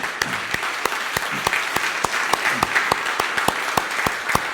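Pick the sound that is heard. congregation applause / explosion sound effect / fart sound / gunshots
congregation applause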